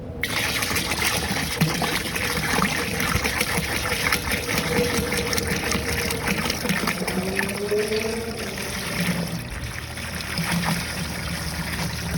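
Oat milk pours steadily from a gallon jug into a brewing vessel for an oatmeal brown ale, a continuous close gushing, gurgling stream that runs the whole time.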